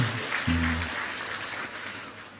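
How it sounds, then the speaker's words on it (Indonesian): Steady applause fills a hall at a formal Balinese government gathering, a continuous wash of many hands clapping at moderate volume, with a brief low voice or tone near the start. "Tepuk tangan untuk beliau."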